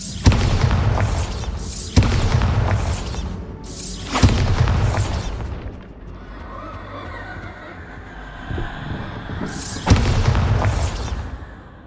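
Bombarda blasting spells in Hogwarts Legacy gameplay: several loud booming explosions with bright crackling bursts, evenly spaced, a quieter rumbling lull in between, then another heavy blast near the end.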